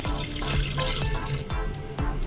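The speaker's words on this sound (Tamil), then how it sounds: "ஒரு கப் தண்ணி ஊற்றிக்கோங்க" Water splashes steadily into a vessel close by while making brinjal sambar, a cup poured in a continuous running stream with bubbling gurgles throughout, no voices.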